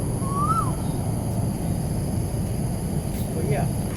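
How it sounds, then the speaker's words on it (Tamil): In Marsiling Park, Singapore, an Asian koel gives two faint, distant whistled calls spaced a few seconds apart over steady outdoor background noise. "குயில் சத்தம் கேட்கட்டும்."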